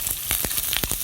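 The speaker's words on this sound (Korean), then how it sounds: "그래서 이렇게 지글지글 하잖아요." Chicken pieces sizzle skin-side down in a generous pool of oil alongside green onions in a pan, making a close, steady hiss broken by several sharp pops and crackles, with no talking.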